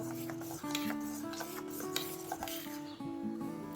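A spoon mixes flour into milk in a bowl, quiet scraping and rubbing strokes with faint squeaky tones against the bowl, steady and close with no voices.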